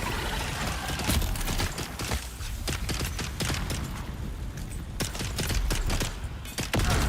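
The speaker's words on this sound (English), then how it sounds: "He's still shooting at me." Rapid, dense gunfire from a shooting video game, with shots cracking in quick bursts and overlapping one another throughout, steady and fairly loud with no talking.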